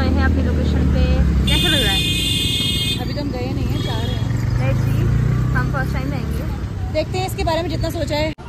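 Heavy road traffic in Dehradun rumbles steadily with passing motorbikes and cars and a sharp horn blast, all under continuous close talking.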